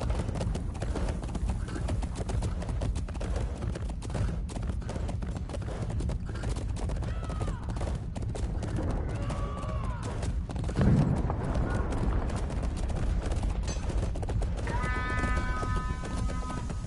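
Horse hooves clatter at a steady gallop throughout a video game cavalry charge during a siege, with faint whinnies, distant battle noise and a brief synth tone near the end.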